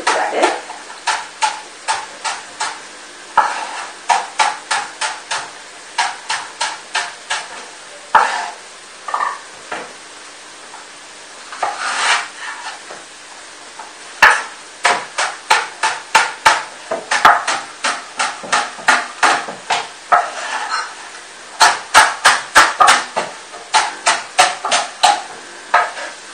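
Leek being chopped with a knife on a board for a veal ossobuco in beer sauce, a long run of rapid sharp cuts in bursts with short pauses, close and fairly loud, no voices.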